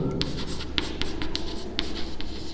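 Chalk or marker scratching across a classroom board while the surface area formula is written out, a steady run of short strokes and taps, close and clear with no talking.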